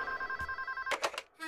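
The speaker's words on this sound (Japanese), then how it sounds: "あ、ごめん、電話。" A telephone rings with a steady electronic trill, followed by a few louder bursts of ringing. It is close and clear, with no talking over it.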